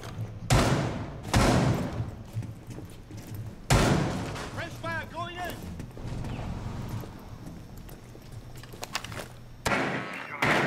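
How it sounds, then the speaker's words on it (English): Gunfire in Rainbow Six Siege during a Club House match, several sharp separate shots spaced seconds apart, mixed with thuds and footsteps, with people talking over it. "An enemy shooting up."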